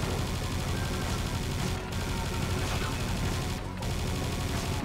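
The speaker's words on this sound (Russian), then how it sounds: "полагаю, можно переключаться на пулемет" Sustained machine gun fire in the video game Serious Sam 2, a dense, unbroken rattle of rapid shots at high volume with two brief pauses, under a constant roar of game sound.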